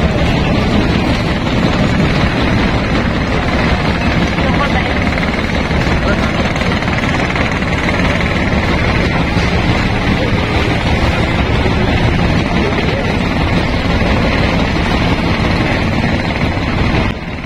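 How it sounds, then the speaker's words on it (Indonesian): A loud, constant engine drone with wind rush fills the whole stretch, the steady roar of a small motorboat, an Indonesian klotok, underway on a river. "Saat ini kami sudah berada di dalam klotok atau perahu bermotor"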